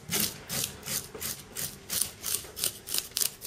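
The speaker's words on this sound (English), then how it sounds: "So just scrape across with the blade of a knife." A knife blade scrapes scales off a sea bass in a steady series of rough, close strokes, each a bright rasping sweep, repeating about every third of a second with no talk.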